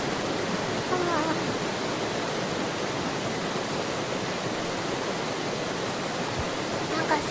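Waterfall and rushing water in the horror video game Shadow Corridor, a steady, dense roar of spray that stays loud and even throughout without a break.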